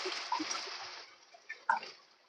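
Faint splashing and trickling of water into a pan of sautéed onions and paste, a soft pour with a few small splatters and drips.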